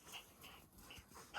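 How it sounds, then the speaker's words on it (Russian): A dog whimpers softly in short high whines after catching a scent outdoors while hunting, several faint cries spaced across a quiet moment, followed by a louder burst at the end. "Он всегда, когда учует запах, начинает скулить, а потом начинает лаять."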